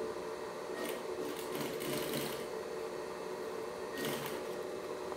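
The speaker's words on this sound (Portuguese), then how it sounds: "Eu vou trazendo aqui, costurando." A sewing machine stitching the side seam of a fabric toiletry pouch with two dividers, a steady close whirring hum with a couple of faster bursts of stitching, and no talk over it.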